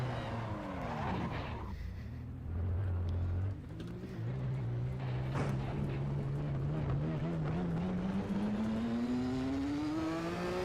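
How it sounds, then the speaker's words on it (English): Race car engine in a sim racing video game played on a direct-drive wheel rig, roaring loudly as it revs up through gears with rising pitch, brief tire squeal and a voice faintly under it. "Oh, glorious roar of that engine."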